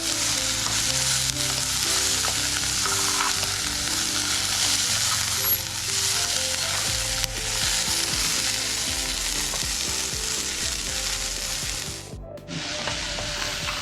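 Raw tamarind pieces roast in a hot pan with a steady, dense sizzle and occasional stirring scrapes that continue for the whole stretch, close and without speech.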